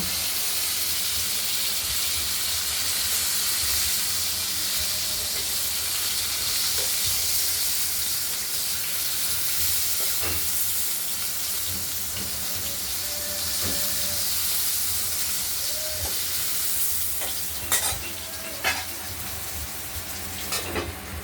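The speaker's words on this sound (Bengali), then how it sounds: "টমেটোটা দিয়ে দিলাম, টমেটোটা একটু ভাজা ভাজা করে নেব।" Tomatoes frying in a pan for a river fish curry, a constant loud hissing sizzle that runs throughout, with a few sharp clinks and stirring clatters toward the end.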